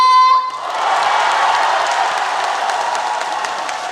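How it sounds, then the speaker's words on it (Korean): Festival crowd at the Namhae garlic and Korean beef festival breaks into loud, sustained applause and cheering, a dense wash of clapping that swells after a brief tonal lead-in and holds steady throughout. "자, 한 번 더 다 같이 더 크게 박수와 함성!"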